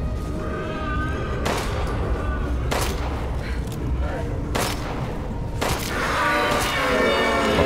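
Gunfire in the video game Resident Evil Village, four or five sharp shots spaced a second or two apart over a constant low game rumble, with a person talking between the blasts.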